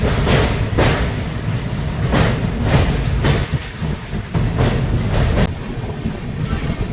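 Kolkata–Guwahati Garib Rath express rolling into Kamakhya Junction on a curve in monsoon hill country, a loud low rumble with rhythmic clickety-clack wheel beats over rail joints, heard up close from on board.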